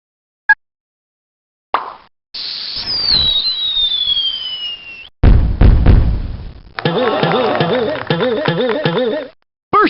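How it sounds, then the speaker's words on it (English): Fireworks in the math video game Mighty Math Number Heroes: a whistling rising and falling tone, then booming bursts and crackling sparkly effects, loud and synthetic, separated by short silences. "Let's put on a fraction fireworks show."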